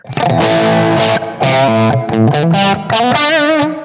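Electric guitar run through the Tube Screamer-style TS overdrive of a Blackstar St James amp plugin into a clean amp, loud chords and single notes with gritty sustain and short gaps between phrases.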